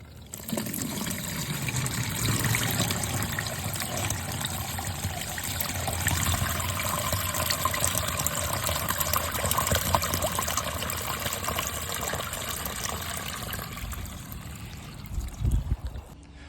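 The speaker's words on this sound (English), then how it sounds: "I have the hose running to see when the water will make it to the end." A garden hose sends running water through an exterior storm water drainage system, giving a continuous, loud trickling rush that barely changes for the whole stretch, with a short thump near the end.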